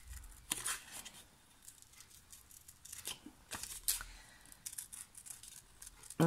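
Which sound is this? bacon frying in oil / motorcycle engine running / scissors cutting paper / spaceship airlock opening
scissors cutting paper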